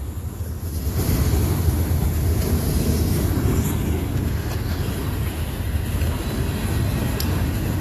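A long freight train rumbles past close by in a continuous, loud, steady roar with faint squeals and clatter on top, holding level from start to finish.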